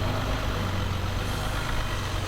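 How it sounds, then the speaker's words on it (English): A 2020 Jeep Wrangler EcoDiesel's 3-liter V6 turbo diesel engine idles with a steady, dense low rumble, close and continuous throughout. "Yes, that is the unmistakable sound of a diesel engine, a 3-liter V6 turbo diesel to be exact"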